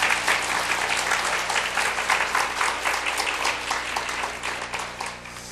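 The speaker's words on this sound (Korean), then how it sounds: "우리 오늘 말씀 전하신 우리 부목사님들께 큰 박수 보내주시기 바랍니다." A church congregation at a mothers' prayer meeting claps for the associate pastors, giving loud, dense, continuous applause over a steady low hum from the hall.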